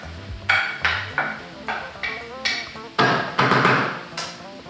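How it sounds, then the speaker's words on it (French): Peppers and tomatoes for menemen being stirred in a pan, a utensil knocking and scraping against the metal in a steady run of about a dozen sharp clanks, close and clear over a faint sizzle. "On mélange bien"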